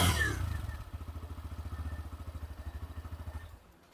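A Hero Glamour X 2025 motorcycle engine throbs with a low, even pulsing beat, close by, after a brief loud burst at the start, then drops away at the end.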